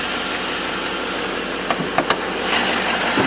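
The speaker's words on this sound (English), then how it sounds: "This truck sounds great and it runs smooth." A 2012 Chevrolet Silverado 2500 with the 6.6L LML diesel idles steadily with a constant, even rumble, joined by a few brief clicks and a slight rise in noise near the end.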